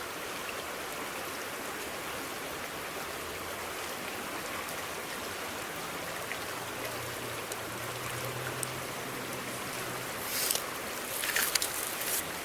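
A creek flows steadily nearby with a continuous broadband rush of water, a few louder splashes and rustles near the end, and no speech.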